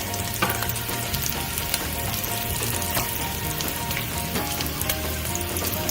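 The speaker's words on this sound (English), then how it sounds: "then we're going to add the Fideo. Organic olive oil." Fideo vermicelli fries in organic olive oil in a skillet, giving a loud, steady, close sizzle with light crackling throughout and no talking.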